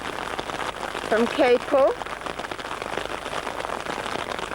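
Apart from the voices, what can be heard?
heavy rain pouring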